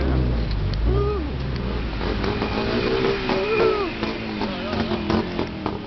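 Heavy downtown Bangkok street traffic with a bus nearby: a steady loud roar of engines and passing vehicles, with horn-like tonal bursts and a voice speaking over the din.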